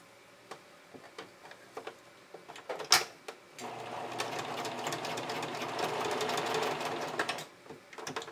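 A sewing machine top stitches a small elastic strap onto a bikini top, starting with a few scattered ticks and clicks, then settling into a steady, close whirring run that lasts several seconds before stopping.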